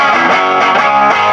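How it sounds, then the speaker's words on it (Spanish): An electric guitar played through heavy distortion sounds a loud, dense, sustained chord with a thick buzzing tone for just over a second, with no voices. "Aunque los niveles de distorsión han pasado de esto"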